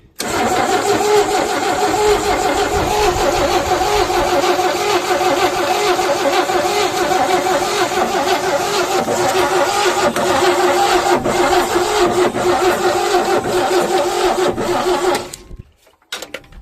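A 1969 Chevrolet C10 pickup that sat unused for 23 years, carburetor untouched, cranks and catches into a loud, steady, close engine roar for about fifteen seconds before cutting off abruptly.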